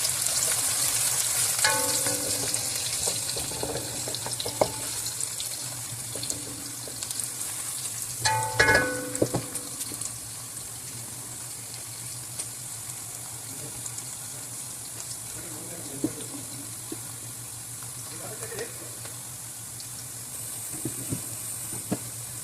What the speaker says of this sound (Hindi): ये प्याज को आप इतना ब्राउन करें,